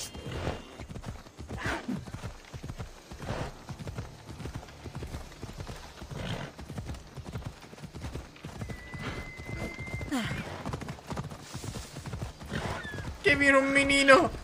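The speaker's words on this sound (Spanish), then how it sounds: "Muchas gracias por el caballo." A horse in Assassin's Creed Odyssey clip-clops in a steady, rhythmic hoofbeat, close by, with whinnies breaking in and voices talking over parts of it.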